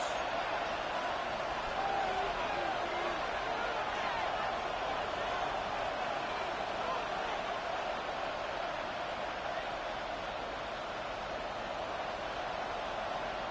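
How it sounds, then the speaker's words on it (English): Crowd roaring at Arrowhead stadium in a Madden football video game, a dense, constant wash of cheering noise, loud and unvarying, filling the whole stretch. "The crowd at Arrowhead roaring."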